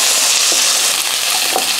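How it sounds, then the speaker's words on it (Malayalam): Onions are sautéed in a pan for a pumpkin curry, a close, loud, continuous sizzle with brief stirring scrapes mixed in. "ആ ഉള്ളി അങ്ങോട്ട് വഴറ്റി അങ്ങോട്ട് കൊടുക്കുക."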